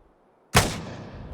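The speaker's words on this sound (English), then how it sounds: "Here again, just starting with the hunting rifle." A single loud, sharp hunting-rifle shot in the survival game Miscreated cracks out of near silence, followed by a long, rumbling echo that fades slowly.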